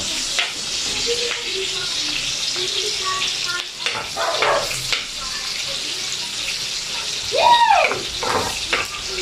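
Onion and garlic sautéing in a pan for a home-cooked pancit dish, a steady close sizzle with occasional stirring and scraping, a brief clatter of utensils near the end.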